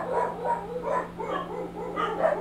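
Dogs bark and yip close by, several overlapping excited barks in a steady run over a faint electrical hum.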